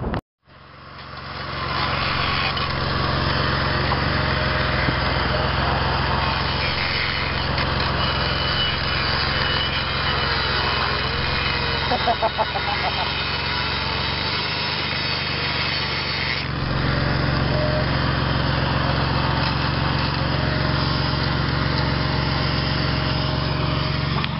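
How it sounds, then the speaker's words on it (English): A worn grinder cuts into the body of a 1997 Ford Taurus Wagon, a continuous loud whining drone with a grating edge that holds steady for the whole stretch, shifting in pitch briefly midway. "Cut it off with a grinder."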